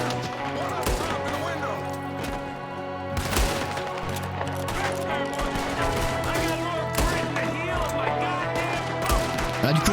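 Gunfire from a shootout in Red Dead Redemption II, with repeated sharp shots scattered through a dense game soundtrack and other game sounds.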